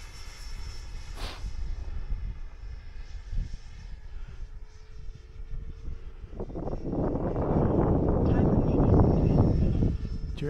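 An FMS Super Hornet RC model jet flies over a field on a windy day, its broadband engine roar swelling louder toward the end, with wind buffeting and a distant steady tone running underneath.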